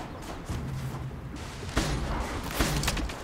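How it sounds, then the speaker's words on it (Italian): Distant gunfire from hunters in the video game Horizon Zero Dawn: a few scattered shots, faint and far off, over quiet game ambience with no talk. "Sento spari, è una mia impressione."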